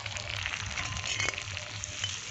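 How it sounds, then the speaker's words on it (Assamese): Chopped tomatoes fry in a pan and cook down into a gravy, producing a steady, soft crackling sizzle with faint stirring scrapes, close and low in level. "ভালদৰে গ্ৰেভি হোৱাকৈ ফ্ৰাই কৰি ল'ম আৰু।"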